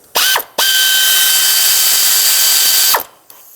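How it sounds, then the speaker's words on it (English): A ratchet with a 10mm socket loosens the ignition coil hold-down bolt on a 2006-2011 Chevy HHR. A short burst of rapid clicking is followed by a longer steady run of ratcheting, close and loud. "With a 10mm, remove this bolt here that holds it down."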